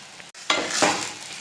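A potato egg fry with chili powder is stirred in a hot pan, a soft scrape followed by a rising sizzle and hiss that holds steady for a moment, close and clear with no talking.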